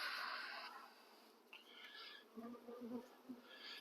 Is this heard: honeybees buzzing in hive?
yes